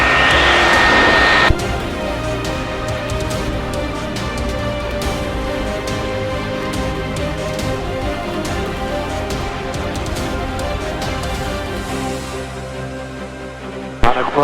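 Ventura ultralight aircraft engine climbing hard in flight, a loud, steady propeller drone with a dense harmonic hum that holds throughout, easing slightly toward the end.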